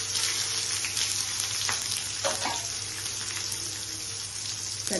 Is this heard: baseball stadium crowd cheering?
no